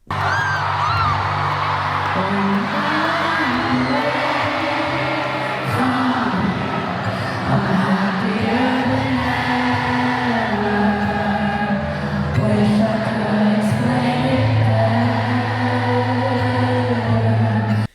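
A large crowd at a concert screams and yells together in a loud, sustained roar that swells and dips throughout, with music and singing blended underneath.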